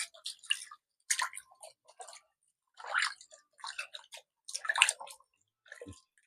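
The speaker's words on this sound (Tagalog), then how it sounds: "And then babanlawan ko po yan ha. Ng mga dalawang ulit po na banlaw." Duck meat is rinsed with water in short, wet, squishing bursts separated by silences, close and fairly quiet, ending with a brief low splash.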